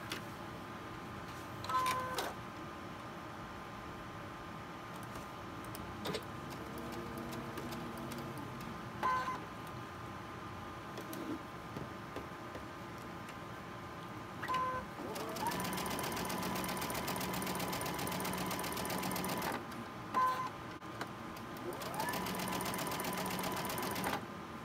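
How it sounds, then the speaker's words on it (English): A sewing machine stitches quilt pieces for a pinwheel Christmas table runner, running in long steady bursts of rapid needle clatter with brief pauses between seams, close and fairly quiet. "And then I'm going to sew it."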